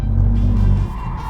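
A BMW M2 slides with its engine droning loud and close, a brief squealing tire tone rising over the low rumble near the end.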